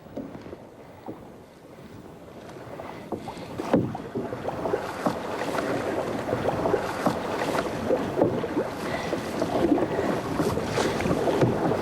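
Paddle strokes from a canoe on a lake in Algonquin Provincial Park, with soft watery swishes and splashes that grow steadier and louder over wind noise on the microphone.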